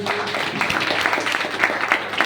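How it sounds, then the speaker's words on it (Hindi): A loud, steady burst of applause from a crowd, many hands clapping densely throughout. "तो एक बार संजीव सर के लिए जबरदस्त ताली।"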